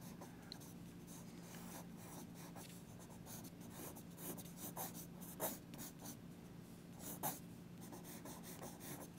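Pencil sketching on paper, a soft continuous scratching and rubbing with a few brief louder strokes, close but faint and quiet throughout.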